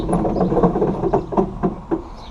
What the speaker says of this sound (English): those are little springs inside. They're real rusted and old. They make noise.